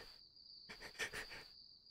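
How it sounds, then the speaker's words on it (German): Crickets chirping in a horror video game played on Linux, a steady faint high trill throughout with a brief louder burst of chirps in the middle, quiet and distant with no talk. "Ich höre Grillen."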